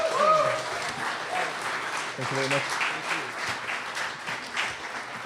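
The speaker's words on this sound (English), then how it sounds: "big round of applause for Sydney and Mike" Audience applause for Sydney and Mike at the SF New Tech Giving Thanks event, a moderate, fairly even clapping that runs under a brief spoken thank-you from the host.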